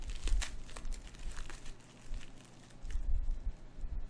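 Plastic bag holding a lapel pin crinkles and rustles while being opened, with irregular close handling bursts and some low thumps throughout.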